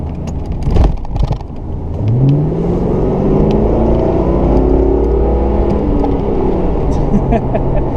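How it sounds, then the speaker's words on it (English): A 1994 Ford Mustang GT's engine rises steadily in pitch as it accelerates with the window down, a loud, continuous drone heard from inside the car after a brief knock near the start. "I'm going to roll the window down for you for the next acceleration part"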